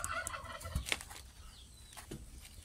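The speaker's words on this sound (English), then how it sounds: "Bird sounds." Outdoor bird calls, including a short gobbling burst and a few scattered chirps, over a quiet background.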